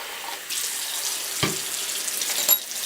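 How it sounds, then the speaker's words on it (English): Tap water runs steadily into a measuring cup being filled with about 250 millilitres for black-and-white film developer, a continuous splashing stream with a brief louder gush near the end. "I'm going to go ahead and fill up my measuring cup."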